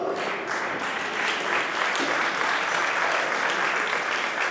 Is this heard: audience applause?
yes